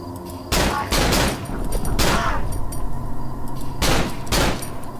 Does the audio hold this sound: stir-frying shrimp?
no